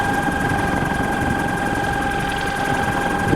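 A 36N48P electric motor runs steadily at about 660 rpm, giving a constant mid-pitched hum with a fine vibrating buzz and two sustained whining tones, loud and close, with no speech.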